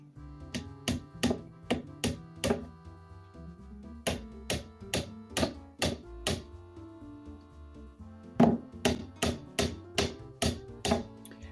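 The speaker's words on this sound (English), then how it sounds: "we'll give it a little tappy tap" A hammer taps a part into place on a home-built construction, landing in several quick bursts of sharp knocks, each group of four to six evenly spaced strikes separated by short pauses, close and clear.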